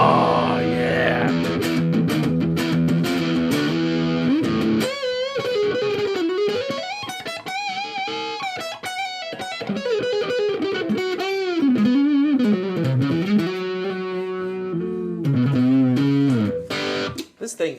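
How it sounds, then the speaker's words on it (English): Heavily distorted electric guitar riffs through a distortion pedal in a guitar shop, bending and sliding sustained notes with brief pauses, loud and close throughout. "I brought a distortion pedal because it's the electric shop, guys."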